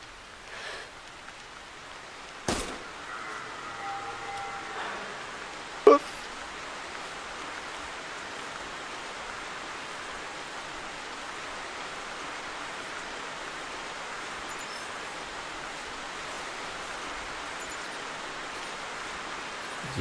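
Steady rain in the hunting game theHunter 2015, a constant soft hiss running throughout with a couple of brief clicks near the start.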